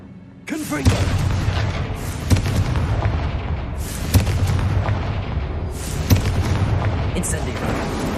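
A Confringo fire-blast spell in Hogwarts Legacy lets out repeated heavy booming explosions, a deep rumbling burst roughly every two seconds over a continuous roar, with game voices around it.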